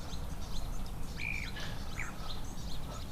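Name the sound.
birds calling at a waterhole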